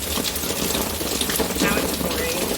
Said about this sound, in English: now it's pouring.